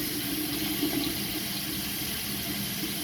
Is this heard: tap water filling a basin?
yes